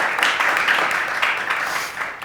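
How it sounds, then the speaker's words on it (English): Audience applause for conference panelists, a brief burst of dense clapping from a room full of people, even and sustained throughout. "just an applause for our great panelists"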